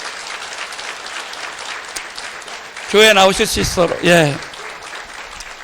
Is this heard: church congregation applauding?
yes